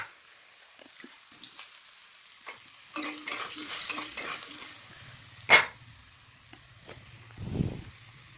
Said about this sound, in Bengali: এখন এটা হালকাভাবে নেড়ে দেবো। আলুটাকে একটু হালকা হালকা লাল লাল করে ভেজে নেব।